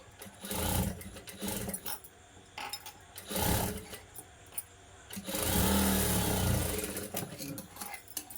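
Sewing machine stitching together puff sleeve pieces for a blouse, running in several bursts of varying length with a longer steady run near the end, and a person talking in the gaps between bursts.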